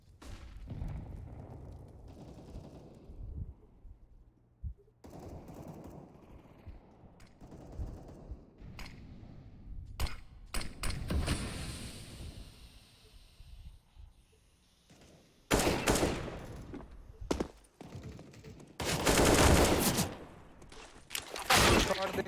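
Gunfire in the mobile shooting game Free Fire plays as intermittent bursts of rapid shots and sharp volleys, louder toward the end, with players chatting between them.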